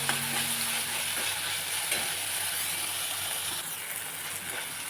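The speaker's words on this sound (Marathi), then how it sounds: "कांदा आणि टोमॅटो सोबतच आता भाजूया." Onion and tomato sizzle and hiss steadily in a hot pan, a continuous close frying sound with faint stirring and no talking.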